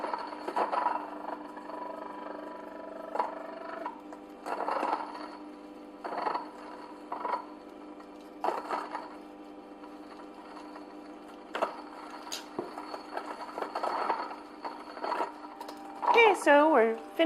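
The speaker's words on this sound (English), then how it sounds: "so we're finished milling our yarrow" A small electric grinder milling dried yarrow into powder gives a steady whirring hum with intermittent louder surges, and voices can be heard alongside it.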